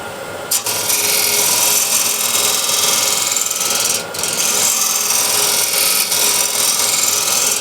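Steady rasping scrape of a shear scraper cutting across an 11-inch osage orange wood bowl spinning on a lathe, loud and close with a brief pause partway through, no voices.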